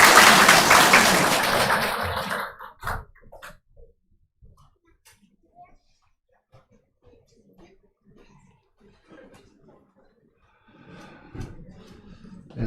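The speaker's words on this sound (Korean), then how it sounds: "예, 큰 박수로 환영하도록 하겠습니다" A church congregation applauds loudly in welcome for about two seconds, then the clapping dies away into near silence broken by scattered faint rustles and small noises.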